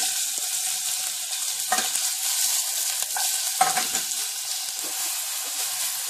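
Onion and garlic frying in a pan for Castilian soup, a bright continuous sizzle with a few soft stirring scrapes, close and steady.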